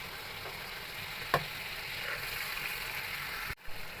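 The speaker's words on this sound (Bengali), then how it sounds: "এই যে আমরা ভেজে নিচ্ছি" Fish frying in a pan makes a soft, steady sizzle with a faint crackle, broken by a single sharp tap and a brief knock near the end.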